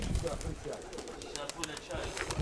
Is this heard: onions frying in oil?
no